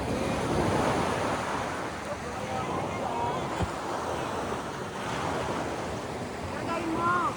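Sea waves wash onto a beach in Zambales with a continuous surf roar and some wind buffeting. Voices can be heard faintly under the steady water noise.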